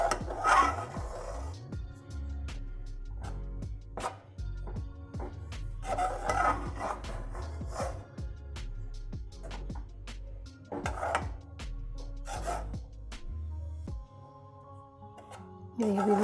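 Spoon scraping and rubbing through dry gram flour (besan) in ghee in a pan over low heat, a steady close rasping with repeated knocks against the pan and no talk.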